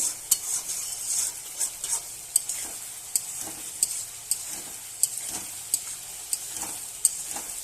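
Fish curry with okra and potato being stirred and sautéed in a pan, rhythmic spoon scrapes and clinks repeating roughly every half second over a constant close sizzle.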